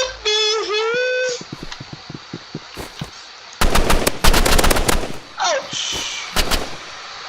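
Rapid automatic gunfire in a Rivals video game, loud bursts and single shots over a busy game soundscape, with a voice reacting in short exclamations.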